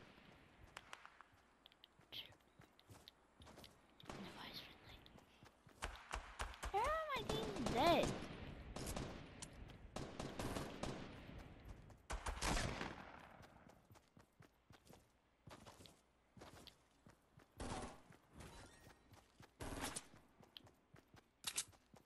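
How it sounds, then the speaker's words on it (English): Bursts of gunfire in a Fortnite match come as rapid clusters of sharp shots, some close and some distant, mixed with footstep-like clatter and quiet stretches. A player talks now and then. "He's trying to shoot me."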